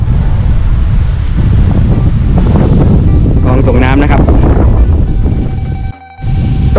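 Strong dry wind buffets the microphone over rice fields being prepared for planting beside a canal, a loud continuous rushing roar that briefly cuts out near the end, with someone speaking faintly beneath it.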